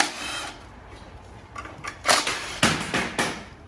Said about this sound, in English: We need a 13mm socket to get this heat shield plate off